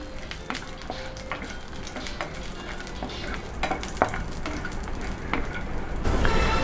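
Raisins and cashew nuts frying in ghee for a Malabar elanji filling, a steady close sizzle broken by repeated scraping stirs and light clinks of a utensil against the pan.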